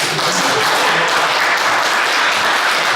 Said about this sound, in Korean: 박수 쳐야 되는 거예요.